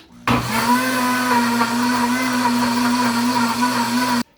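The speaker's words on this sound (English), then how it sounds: "after adequate blending time, strain one more time" A blender whirs loud and steady for about four seconds, blending apples, baby beetroots and chopped ginger, starting and stopping abruptly with no talk over it.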